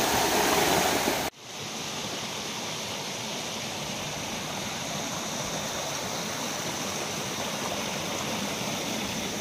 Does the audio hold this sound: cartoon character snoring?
no